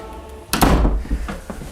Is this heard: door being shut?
yes